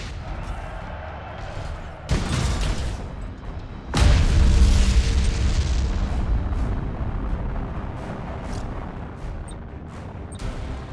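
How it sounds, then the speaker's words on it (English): Thunderhawk gunships bombard a target in Battlefleet Gothic Armada during a Dark Angels versus Orks space battle: two heavy booming blasts land a couple of seconds apart, the second louder and rumbling on for several seconds before slowly fading. "Thunderhawk bombardment"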